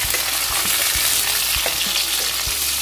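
Sliced onions fry in oil with a loud, dense, continuous crackling sizzle, close up, while a spatula thuds and scrapes against the pan at a fairly regular pace; no talking.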